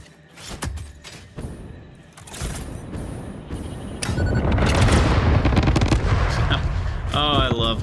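Repeated sharp gunshots and booming blasts from the video game Satisfactory, building into dense, continuous gunfire with heavy low rumble, with a rising tonal sound at the end.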